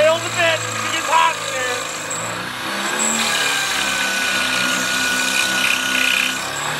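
A power drill runs continuously at close range, a loud steady whine and grind as it drills out a broken door hinge bolt on a 1990 Dodge Ram van camper, with someone talking over it.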